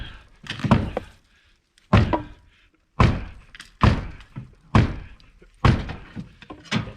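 Heavy thunks of a replacement wall board being hammered down flat into place, about six loud, evenly spaced blows with short gaps between them.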